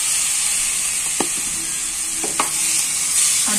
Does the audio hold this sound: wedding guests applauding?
no